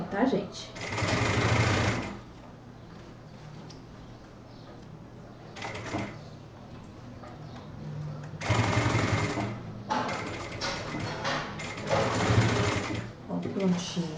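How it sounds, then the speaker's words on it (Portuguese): A sewing machine stitches a straight seam on a backpack in several loud rattling bursts separated by pauses, with someone talking in between. "E a gente pode iniciar costurando ele de forma reta."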